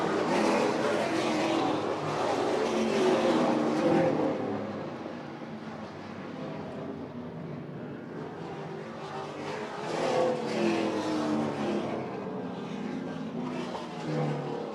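Super late model stock cars roar through the final lap and across the finish of a 150-lap race at Oyster Bed Speedway, a dense, steady engine din from a loud field with crowd and track noise blended in.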